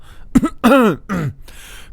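A person clears their throat nearby in a few short, gruff bursts with brief pauses between them.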